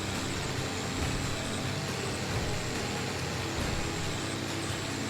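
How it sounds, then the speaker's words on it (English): A loud truck in a video game city rumbles steadily past with a heavy engine drone and broadband road noise, continuous and close throughout, with no talking. "this fucking truck is so fucking loud"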